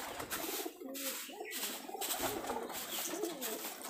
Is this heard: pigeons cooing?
yes